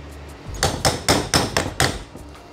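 Car synchro part being tapped down onto its shaft with a socket during a K-series transmission rebuild: five sharp metallic taps in quick succession, close and clear, with no talk.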